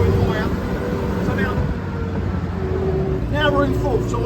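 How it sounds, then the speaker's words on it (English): Ferret armoured car engine droning in third gear as revs climb, a steady heavy rumble with someone talking over it throughout. "So now the revs are going higher."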